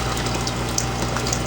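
Water carrying two-day-hatched brine shrimp poured off into a container, a steady close pouring and gushing wash throughout with a low pump-like hum underneath and no talk.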